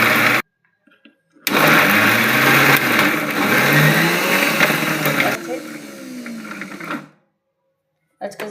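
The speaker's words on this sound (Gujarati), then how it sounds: "લીલી તુરને વટાણા લીધા હતા એ આપણે મિક્સરમાં પીસી લઈશું." A kitchen mixer grinder whirs loudly as it coarsely grinds green pigeon peas and peas for kachori filling, running for several seconds with a shifting motor drone before cutting off.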